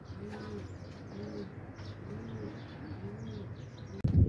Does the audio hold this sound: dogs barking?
no